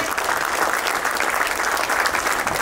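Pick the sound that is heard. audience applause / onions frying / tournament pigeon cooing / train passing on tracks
audience applause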